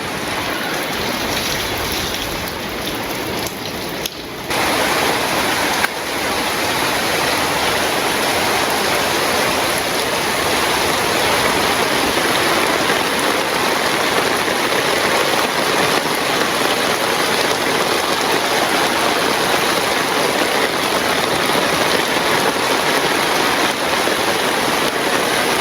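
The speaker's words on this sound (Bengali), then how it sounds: "বৃষ্টি নামলো তাও কত থুবাইছি" Heavy rain pours steadily in a flooded area, a dense, loud, unbroken roar of falling water and rushing floodwater throughout, no voices.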